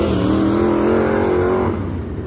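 A race car engine screams at 8,000–9,000 RPM, a loud, close, sustained high-pitched howl that holds and then drops away as the car passes.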